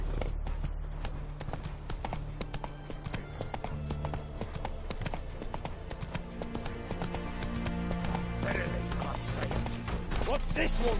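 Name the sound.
horse Roach galloping in video game The Witcher 3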